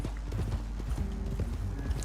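Horse hooves clip-clop at a steady walking pace in the video game Red Dead Redemption II, close and clear over a low ambient bed with faint game sounds.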